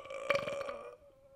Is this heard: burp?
yes